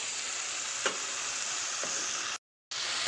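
Tomatoes sautéing in a pan for Chennai-style vadacurry give off a steady, close sizzle with a couple of faint stirring taps, cutting out briefly near the end before resuming.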